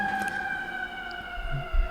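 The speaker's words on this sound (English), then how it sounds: "we haven't had one in the podcast, like a siren interrupt us in a while" A steady, fairly loud emergency siren passes along a busy New York street, its held wailing tones running unbroken under the low rumble of city traffic.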